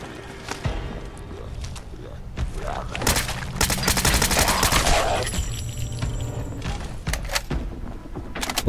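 Gunfire in the Fallout London video game, with dense bursts of shots clustered mid-clip and a few sharp single cracks near the end, fairly loud against a busy game background.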